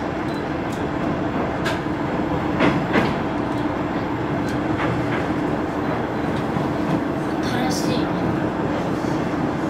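A JR Tadami Line train crosses a truss bridge with a continuous loud rumble and rhythmic clatter of wheels, sounding from inside the carriage, with occasional faint voices in the background.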